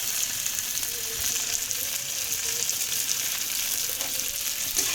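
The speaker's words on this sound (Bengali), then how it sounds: "এবার আমি ভালো করে ভাজা ভাজা করে কষিয়ে নেব কচুটাকে" Taro pieces with salt and turmeric fry and sizzle steadily in a pan while a spatula stirs them, a continuous close crackling hiss with faint scraping and no speech.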